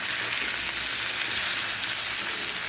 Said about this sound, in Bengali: তো চিকেনটা ফ্রাই হয়ে গেছে, দেখেন